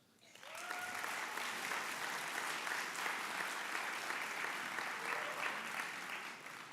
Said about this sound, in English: And I believe that is worth an applause.